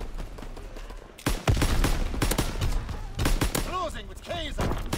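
Gunfire in a Call of Duty Vanguard hardcore match: loud bursts of rapid shots from several guns, with short pauses between volleys and small chirping game effects near the end.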